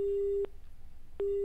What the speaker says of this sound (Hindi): काय तांत्रिक कारणाक लागून फोन डिस्कनेक्ट झाला।